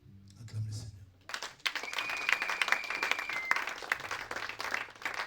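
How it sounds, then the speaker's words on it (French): Church congregation applauding during a French-language sermon: a quiet voice first, then a burst of sustained clapping from many hands that carries on to the end, with a faint tone and voices underneath. "Acclame le Seigneur."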